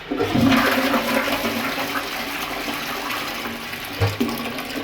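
A toilet is flushed during a drain unblocking job, giving a loud rushing gush of water that settles into a steady swirling drain and refill, with a brief knock near the end.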